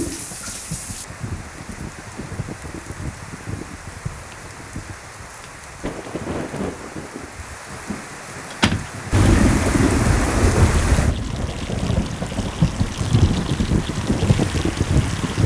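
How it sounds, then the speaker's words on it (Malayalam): Heavy rain pours steadily with rumbling thunder, growing louder and denser partway through, a continuous downpour without any voices. "എന്തൊരു മഴയാ ഇത്."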